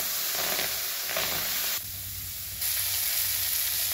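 Guar beans roasting in oil in a kadhai give a steady, close sizzle of frying throughout, with a brief quieter dip partway before the hiss returns at full strength.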